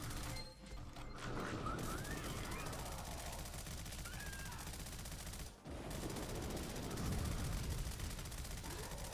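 Continuous Uzi submachine gun fire in the video game Hellmut, dense rattling bursts running almost the whole time, breaking off briefly twice, loud and close.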